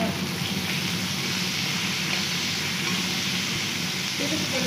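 Chopped ingredients and curry leaves sautéing in a pan, a steady dense sizzle with stirring running throughout, close and fairly loud, no voices.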